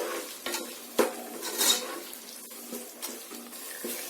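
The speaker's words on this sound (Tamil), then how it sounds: "இப்போ இது எல்லாத்தையும் லைட்டாக ஒரு டைம் வதக்கிடலாம்." Egg biryani masala being sautéed in a pressure cooker: a low frying sizzle broken by repeated metal spoon scrapes and clanks against the pot, close and uneven.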